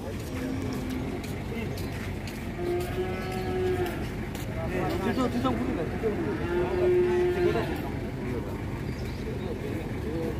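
Cattle at a livestock market moo in low, drawn-out calls, several bellows rising over a busy crowd with people talking and background traffic noise.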